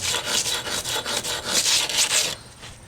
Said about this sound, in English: just get a brick or an old piece of brick. See, that's a high spot, and rub it